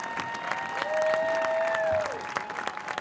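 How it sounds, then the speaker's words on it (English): A crowd at a high school football game applauds the football seniors, with faint clapping under a steady tone and a sustained note that slides downward near the end. "How about a round of applause for our football seniors?"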